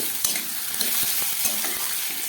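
Boiled potatoes are stirred into frying onion, tomato and capsicum, giving a close, steady sizzle broken by quick repeated scrapes and taps of a spatula against the pan, with no speech.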